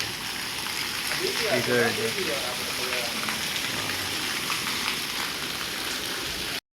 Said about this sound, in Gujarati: અને બહાર તો અંધરાધાર હજી ચાલુ જ છે